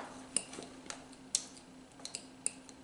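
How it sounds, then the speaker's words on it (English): A fork clinks lightly against a bowl while stirring green colouring into melted butter, giving sparse, faint metallic ticks and taps at an uneven rhythm with a low background hum. "I'm taking like a fork and I'm gonna try mixing the green in with the melted butter"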